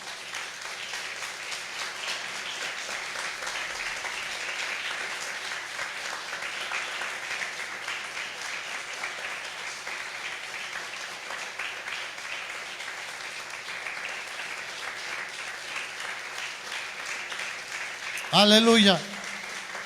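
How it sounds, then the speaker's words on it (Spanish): Congregation applauding during a church sermon on God's love in Christ, a steady wash of clapping that runs the whole stretch beneath a preacher's voice, with a brief louder shout near the end. "Dale un aplauso al Señor"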